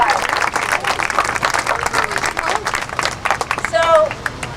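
A crowd at an outdoor charity walk for brain injury awareness claps, a scattered patter of many hands that rises and thins over several seconds, with a few voices and a whoop mixed in.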